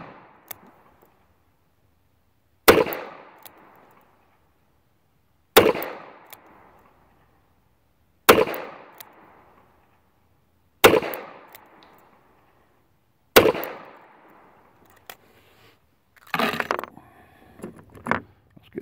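Five sharp shots from a Taurus Model 82 .38 Special revolver fired outdoors at a target, spaced a few seconds apart, each loud crack trailing off in a brief echo, with a jumble of mechanical handling sounds at the end.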